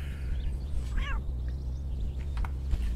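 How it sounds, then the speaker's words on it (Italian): A cat gives a single short meow in the café management game Cafè Owner Simulator, heard at middle distance over a constant low background hum. "Ho sentito un miagolio."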